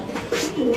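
A white beauty pigeon at a market stall gives a short, close coo, a low throaty murmur lasting under a second.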